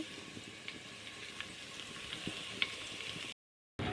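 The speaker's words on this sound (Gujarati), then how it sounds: "લસણ નાખી દીધું વઘાર માટે" Garlic tempering sizzles in hot oil for Gujarati lasaniya patra in a village kitchen, a faint, steady hiss with small crackles that cuts to silence briefly near the end.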